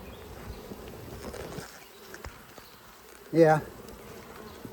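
Honey bees buzz around a brood frame pulled from a hive at an apiary, a continuous close insect drone with one brief louder pass. A person says a single word.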